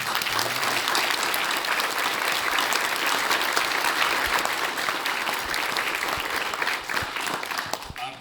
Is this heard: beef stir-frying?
no